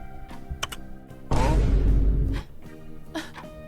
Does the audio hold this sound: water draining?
no